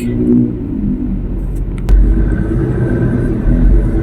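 Cars idle and creep forward in heavy traffic on a Philippine road, with a steady low engine rumble throughout and a brief sharp knock near the middle.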